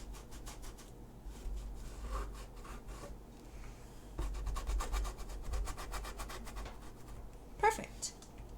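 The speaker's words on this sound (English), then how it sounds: "There you go, and you just rub it in right around that pumpkin." Acrylic paint being rubbed into canvas around a painted pumpkin, soft repeated brushing and scrubbing strokes in bursts, close and quiet, with low background hum.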